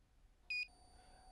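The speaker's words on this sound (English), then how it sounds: "There is a beep and a green light shows up on the power button" A RIX GEAR XE II motion control timelapse slider gives a single short, clear electronic beep on power-up, followed by a faint steady electronic tone in a quiet room.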